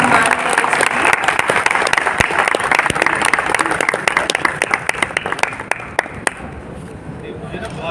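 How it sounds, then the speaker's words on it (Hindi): An audience at a university expert lecture event applauds, dense clapping from many hands that stays loud and steady for several seconds and then thins to a few scattered claps, with a voice speaking over it. "तालियों से सम्मान करें"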